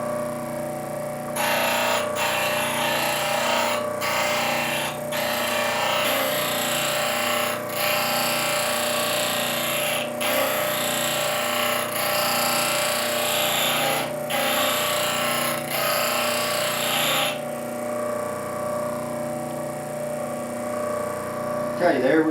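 A travisher blade being sharpened on a grinder: a harsh, buzzing grinding hum that starts abruptly, runs steadily with brief dips, then cuts off near the end, with a voice speaking over it.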